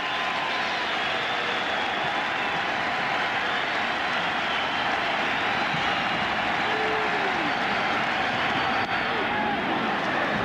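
A crowd at Turner Field roars steadily through a 2003 Cubs–Braves playoff game, a loud, continuous wash of cheering with a commentator talking over it.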